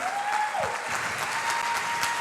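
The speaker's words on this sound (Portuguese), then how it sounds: "Você pode aplaudir a Deus" A church audience applauds in a steady, dense wash of clapping, continuous and fairly loud, with a brief tone sliding through at the start.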